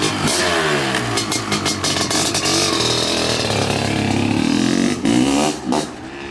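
A two-stroke dirt bike engine, likely a large-bore Honda CR500 or Kawasaki KX500, revs hard and continuously nearby with crisp, ringing blips and throttle swells throughout.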